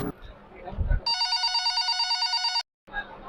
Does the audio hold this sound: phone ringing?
yes